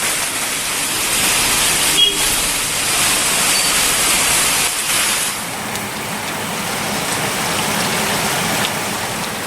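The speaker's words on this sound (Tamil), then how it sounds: "தென்காசி மாவட்டம் சிவகிரி சுற்றுவட்டார பகுதிகளில் கனமழை." Heavy rain falls around Sivagiri in Tenkasi district, a dense, continuous hiss of downpour that stays steady and loud throughout with no voices.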